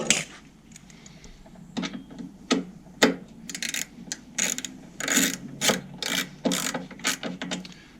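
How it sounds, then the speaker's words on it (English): Ratchet wrench tightening headlight screws on a VW Transporter T4 van, short bursts of rapid clicking in uneven spurts with pauses between, close up and fairly loud, no talking. "Okay, let's get some of these screws back in place."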